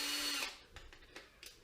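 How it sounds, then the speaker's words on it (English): A hole saw cuts a single-socket opening in plasterboard wall board, giving a loud steady whir for under half a second, then stopping, followed by a few faint scrapes and knocks. "I've invested in one of these hole saw cutters for the exact size for the single sockets"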